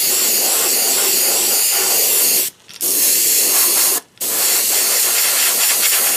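An Iwata airbrush sprays transparent paint onto a fishing lure in a loud, steady hiss. The hiss cuts off twice in brief pauses before resuming.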